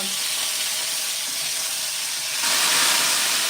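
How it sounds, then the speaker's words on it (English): Steady hissing sizzle of spices frying in hot oil for dal, close and continuous, growing a bit louder and brighter near the end, with no voices. "you have to kind of let them sizzle and pop, that's the key"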